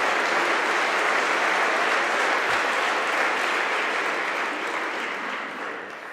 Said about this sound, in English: maybe we should start the day with a round of applause for the ones unseen